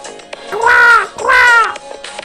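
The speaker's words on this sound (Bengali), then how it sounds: "এমন সময় হঠাৎ একটি কাক অসুস্থ হয়ে মাটিতে পড়ে ছটফট করছে আর বলছে" A crow in an animated story, a sick crow fallen to the ground, gives two loud, drawn-out caws close up, each about half a second long, with no talk over them.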